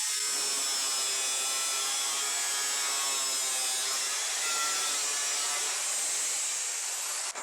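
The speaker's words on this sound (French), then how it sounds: "Commençons par découper toute la circonférence de la tôle extérieure dans la partie inférieure du" A power tool cuts around the outer sheet metal casing of an electric water heater, a continuous high harsh whine and grinding hiss, close and loud with no talking.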